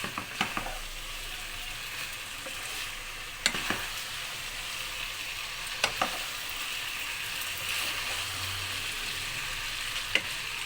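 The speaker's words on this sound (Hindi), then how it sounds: "इस तरह इसको फ्राई कर लें। अब थोड़ी सी मीडियम फ्लेम करके अच्छी तरह इसको कर लें।" Egg noodles stir-fry over a medium flame, a steady soft sizzle throughout with occasional sharp clicks of a utensil against the pan.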